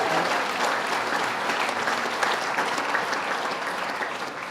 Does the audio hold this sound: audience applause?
yes